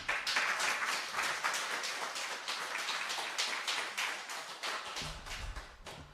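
A congregation at a family worship service applauds, dense crisp clapping from many hands that stays strong throughout, with a few louder claps standing out near the end.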